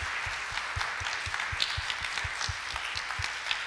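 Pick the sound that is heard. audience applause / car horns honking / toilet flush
audience applause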